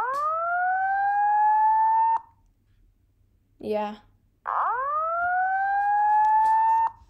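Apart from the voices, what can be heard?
two-stage fire alarm sounding in a video game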